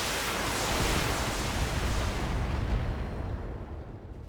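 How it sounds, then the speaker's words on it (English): A salvo of SRM missiles fired from a mech in the Battletech video game, heard as a dense, loud rumbling roar of launches and explosions that stays steady and then fades over a few seconds, with no talking. "Let's turn off the lasers and see how many SRMs I can fire."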